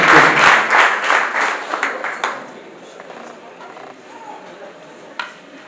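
Loud, dense applause breaks out at a wedding, starting as a thick burst of clapping and thinning into scattered claps and quiet room noise within a few seconds.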